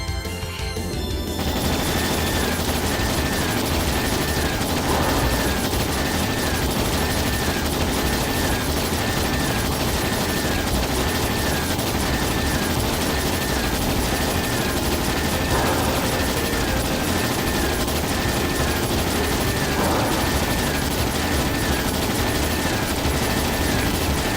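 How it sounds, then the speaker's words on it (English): Ships firing cannons in the video game Trails in the Sky SC, a dense, unbroken barrage of booms and crashing impacts that stays loud and steady throughout, with occasional mechanical clanks rising above the roar. "All ships, fire!"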